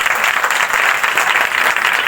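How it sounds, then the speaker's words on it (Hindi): A church congregation claps together during a live Hindi prayer meeting, a dense, steady wash of many hands close by and loud, with no voices over it. "ताली बजाएंगे।"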